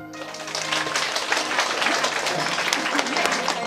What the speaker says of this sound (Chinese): 掌声再次响起，持续下去